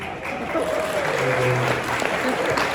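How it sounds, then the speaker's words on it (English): Audience at a neighborhood alliance meeting bursts into applause after a mock election vote, a dense patter of clapping lasting a few seconds while a voice speaks over it. "Let's give them both a round of applause."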